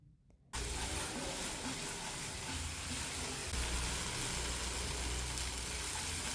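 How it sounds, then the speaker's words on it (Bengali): Beans and potato vegetables hit a hot pan and sizzle loudly as they are stir-fried, a sudden onset after a brief quiet start followed by a dense, continuous frying crackle close up. "ভালো সুন্দর করে নেড়ে চেড়ে কষিয়ে নিতে হবে সুন্দর করে। দেখুন আমি সুন্দর করে কষিয়ে নিচ্ছি।"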